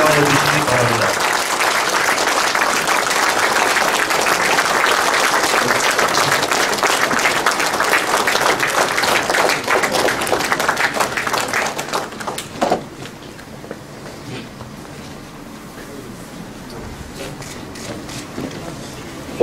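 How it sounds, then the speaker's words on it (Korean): A crowd applauds at a welcoming event for a provincial governor's visit in Jecheon, Korea: loud, dense clapping that holds for about twelve seconds, then breaks off into quieter scattered claps and room noise. "힘찬 박수로 환영해 주시기 바랍니다."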